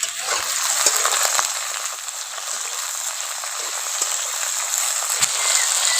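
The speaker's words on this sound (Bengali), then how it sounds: "আলু আর বেগুন একসঙ্গে একটু ভালো করে কষে নেবো" Potatoes and eggplant sizzling together in a pan, a steady close crackling hiss with occasional stirring clicks, no talk.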